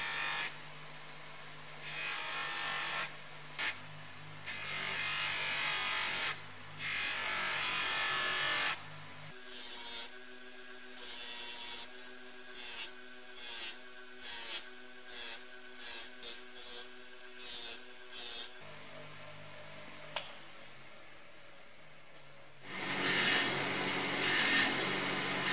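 Small metal parts from a 1960s Omal Universal Money Checker being polished with a power tool, a buzzing motor whine that starts and stops in short, repeated bursts.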